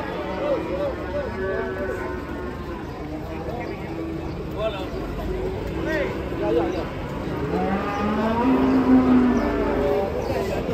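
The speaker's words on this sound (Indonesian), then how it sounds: "Kedatangan sapi ngamuk guys, ini dibawa masuk ke dalam." Cattle mooing loudly and repeatedly as a truckload of agitated cows is unloaded and led inside, with shouting voices, clattering hooves and general commotion around them.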